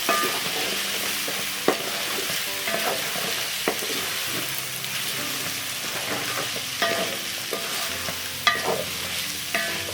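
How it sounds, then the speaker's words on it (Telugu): Chicken for Andhra-style kodi pulao sizzles and roasts in a pan on low flame while being stirred. A constant frying hiss runs underneath, with scraping stirs and occasional sharp utensil knocks against the pan. "రోస్ట్ చూసుకుందాం అండి మధ్య మధ్యలో కలుపుతూ ఉండాలండి"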